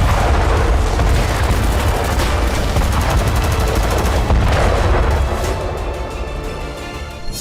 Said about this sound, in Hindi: अस्पताल के पास बड़े धमाके हुए।